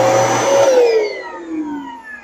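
An electric motor on a machine brought in for reconditioning, switched on and humming loudly with a tonal whine that sweeps downward in pitch as it changes speed, close and alone over about two seconds.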